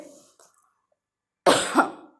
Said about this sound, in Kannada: ಯಾಕೋ ಕೆಮ್ಮು ಬರ್ತಿದೆ ನೋಡಿ